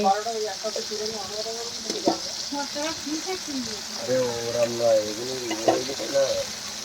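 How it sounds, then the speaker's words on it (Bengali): Mutton masala sizzles in a pan over a clay stove on Navami, a steady close frying hiss that runs the whole time beneath someone talking. "আমি আজকে এই উনুনে রান্না করছি। এই দেখুন রান্না হচ্ছে আজকে।"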